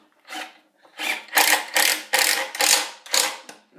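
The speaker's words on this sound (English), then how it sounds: "I'll go ahead and put this screw in now" A pocket hole screw driven into a 5/8-inch-thick bookshelf panel with a one-inch screw, heard as a close series of about seven rhythmic ratcheting, grinding bursts with brief gaps, and no talking.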